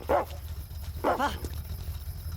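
A dog gives two distinct barks with a whining, whimpering edge, spaced about a second apart, over a steady low rumble of background noise.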